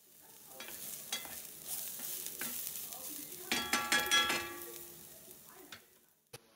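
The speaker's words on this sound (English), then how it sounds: "Then I cooked up the ground beef. And got the onions sauteing." Ground beef and onions sauté in a pan with a soft continuous sizzle, punctuated by occasional stirring scrapes and a light clang of a utensil, fairly quiet and close with no talking.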